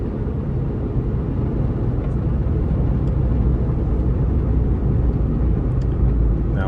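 Small 2006 Smart Fortwo with a 61hp engine driving along a twisty road, heard from inside as a steady, loud engine and road rumble that holds constant throughout with no talk.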